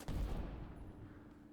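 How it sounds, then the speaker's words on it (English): Welding laser weapon firing in the Bionic Dues video game, a single heavy booming blast with a rumbling decay that fades over about a second. "welding laser, since it covers multiple points, will it do more? I guess it's worth one shot to try."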